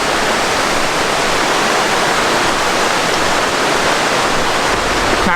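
Steady, loud roar of a mountain waterfall in North Carolina, a continuous broadband rush of falling water heard up close with no voices.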